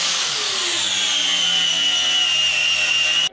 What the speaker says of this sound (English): Let's clean up some of them welds so we can make it look pretty.